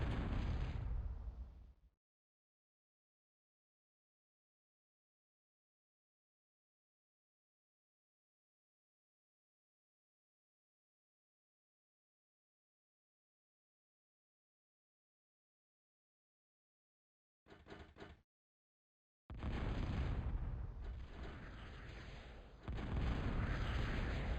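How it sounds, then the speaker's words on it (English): Jets striking missile towers in a real-time strategy game, loud explosion bursts at the start and a cluster of heavy blasts and rumbling near the end, separated by a long stretch of total silence. "So Diablo attacks with his Jeffies, taking out these missile towers,"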